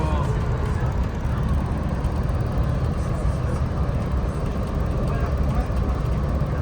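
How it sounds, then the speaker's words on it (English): Steady rumbling rail noise of a moving train fills the clip, a continuous low roar heard from inside the carriage. "Ouais, je suis dans le train."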